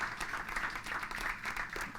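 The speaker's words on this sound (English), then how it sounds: "Please, let's give her a round of applause" Audience applause at a talk on patient-centred cancer research, a steady wash of many hands clapping, moderately quiet and even throughout with no voices on top.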